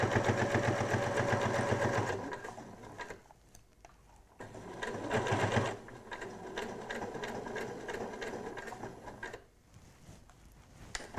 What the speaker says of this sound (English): So I'm going to start by stitching on the spot, and then off I go.